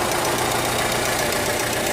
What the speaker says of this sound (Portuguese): a gente nota aí um barulho um pouco estranho, né? Parece de uma batida dentro do motor